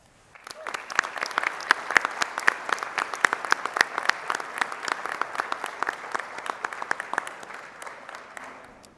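Sustained applause from a convocation audience welcoming the class of 2025, a dense, even clatter of many hands clapping that swells quickly and holds steady, then begins to thin toward the end.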